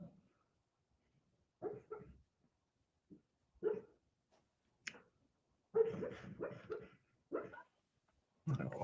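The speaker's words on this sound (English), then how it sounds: "She's growling." Sleeping dog growling while dreaming, a quiet indoor series of short low grumbles, muffled woofs and whimpers in irregular bursts separated by silence.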